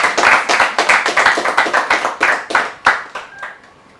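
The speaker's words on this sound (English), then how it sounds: "I think the organizers also deserve a round of applause." A few people clap for the organizers at a reality-show eviction gathering. The claps are close and loud in an uneven rhythm, then thin out to scattered single claps before stopping.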